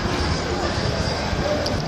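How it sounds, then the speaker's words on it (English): East Didsbury to Manchester Airport tram drawing in at a busy Market Street stop in Manchester city centre, a steady broadband rumble of wheels and motor under constant crowd noise, with a brief high squeal near the end. "Now approaching, we have a East Didsbury by here tram."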